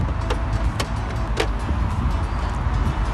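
Car bonnet being opened, a few sharp metallic clicks and knocks from the latch and hood against a steady low background rumble, with no talking.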